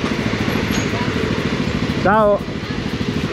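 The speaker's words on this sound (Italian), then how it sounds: "Le moto già arrivate, vedete, tanti mono bicilindriche, e adesso parcheggiamo le nostre moto." Several motorcycles, many of them single- and twin-cylinder off-road bikes, idle and rumble steadily at the finish of an off-road rally to Sanremo, with a short revving burst near the end and people talking and greeting over the engines.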